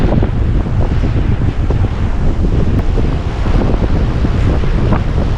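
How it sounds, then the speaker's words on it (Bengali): Rough sea surf at the Dwarka coast, a continuous loud roar of crashing waves mixed with strong wind buffeting the microphone throughout, with no voices. "সমুদ্র একবারে পুরো উত্তাল"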